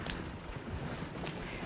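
Horse hooves clip-clopping at a steady walking pace in the Western video game Red Dead Online, moderately quiet and continuous over a low ambient bed.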